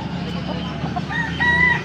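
An 11-month-old white Kelso gamefowl stag crows once, close and clear, its call rising in the second half over a low background hum.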